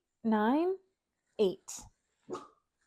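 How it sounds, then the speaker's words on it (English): A dog gives a drawn-out whining bark followed by a few short, sharper yips, near and clear against an otherwise quiet room during a tabletop gaming session. "She's just sometimes she just likes to bark."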